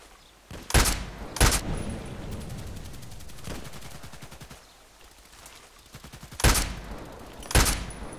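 Gunfire in the video game Contract Wars: loud, sharp shots cracking out in pairs at the start and again near the end, with a quieter stretch of scattered fire between them.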